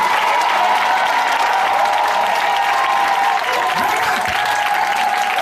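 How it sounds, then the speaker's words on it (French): Loud, dense applause from a church congregation fills the whole stretch, continuous and close, with a steady tone running beneath it and a brief voice sounding faintly near the end. "c'est pas une acclamation comme ça que tu vas nous donner"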